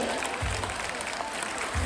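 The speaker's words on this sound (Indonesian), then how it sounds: "Boleh dan kita berikan tepuk tangan kembali" An audience at a Sumatran elephant show at Taman Safari Prigen gives a brief, fairly quiet round of applause, with the clapping heard as a steady wash of crowd noise.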